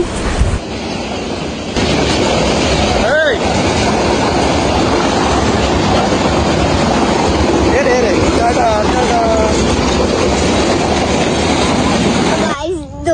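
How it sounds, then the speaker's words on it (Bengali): A loud continuous rumbling roar of a train rolling past nearby, with a brief horn-like tone and squeals, steady throughout before cutting off. "তারপরে ট্রেনের আওয়াজ পেলাম"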